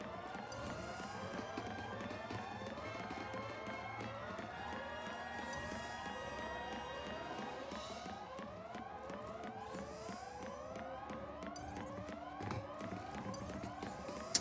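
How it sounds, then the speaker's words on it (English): Repeated rising and falling siren wails from the video game Final Fantasy XIII overlap continuously for the whole stretch, several tones sweeping together over a busy background of game sound, moderately faint. "this is the loud siren part of the game."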